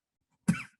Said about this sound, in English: Sorry, I'm coughing like crazy.